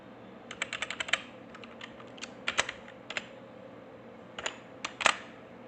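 Keys clatter on a computer keyboard while entering an Excel IF formula, in short irregular bursts of clicks with pauses between, close and fairly loud, with no voices.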